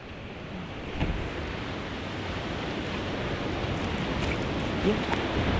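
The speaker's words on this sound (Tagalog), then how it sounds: "Gawa na may alon na. Yun o, ang alon na." Ocean waves at night heard from a boat at sea, with a steady, broad rush of surf and wind building slightly, loud and continuous, and no talking.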